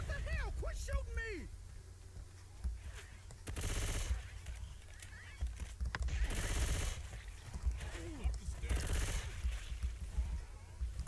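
Gunfire in Left 4 Dead 2, with rapid bursts and single shots in repeated clusters under frequent shouting and in-game voices, over a constant rumbling background.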